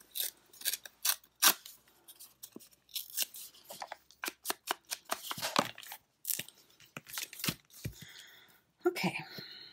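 Scissors snipping paper scraps for collage, a quick series of close, crisp cuts in irregular bursts with brief pauses between them.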